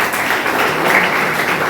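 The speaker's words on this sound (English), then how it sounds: "Can we have a big round of applause," Students at a computer lab launch event applaud together, a dense steady wash of clapping that holds at a fairly loud level throughout.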